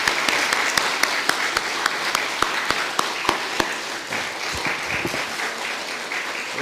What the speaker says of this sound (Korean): 여러분 이 시간 나오실 때 여러분 박수로 환영해 주시면 감사하겠습니다.